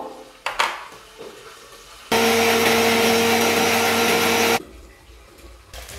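An electric grinder blends dry chillies and garam masala into a paste, a loud steady whir running for about two and a half seconds between quieter kitchen clatter.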